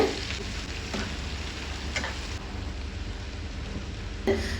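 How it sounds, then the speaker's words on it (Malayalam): A steady, loud sizzle of four chopped onions frying in hot oil for chicken biryani, a continuous crackling hiss with no voices. "ഇനി വറുത്ത് കോരി അതേ എണ്ണയിലേക്ക് ഒരു 4 സവോള ചെറുതായി അരിഞ്ഞത് ചേർത്ത് കൊടുക്കുകയാണ്"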